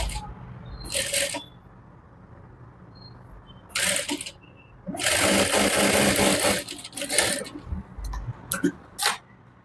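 A sewing machine stitching fabric pieces (a kali panel) for a pair of pants, in several separate bursts of rapid whirring, close and fairly loud, with quiet pauses between runs.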